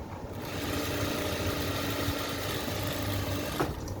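A sewing machine hems the torn edge of a saree, running as a steady, close mechanical hum and rattle without pause, with no talking over it.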